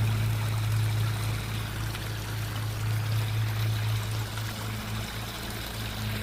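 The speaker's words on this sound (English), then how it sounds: "Nice little waterfall there" A small waterfall flows steadily outdoors, a continuous rushing, splashing wash of water that holds at an even level throughout, with a low droning hum underneath.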